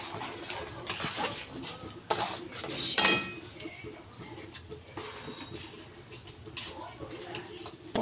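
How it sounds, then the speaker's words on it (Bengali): A spoon scrapes and clinks against a pot while rice paste made from Gobindobhog rice is stirred for sandesh, giving irregular close scraping and tapping strokes with a sharper clank midway. "এবার ভালো করে নাড়াতে হবে"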